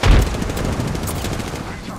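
Gunfire in a squad-based shooter video game, a burst of loud rapid shots at the start followed by a dense continuous crackle of firing for a couple of seconds.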